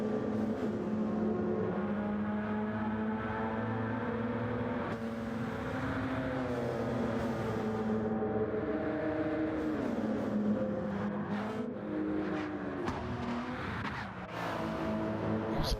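Race cars roar past on a straightaway, a steady loud engine drone with shifting pitches and revving as several cars go by, continuous for the whole stretch with no talk.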